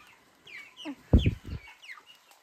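Chickens clucking on a village poultry farm in hot weather: scattered soft calls, then a louder close burst of several clucks in quick succession before fading back to quieter calls.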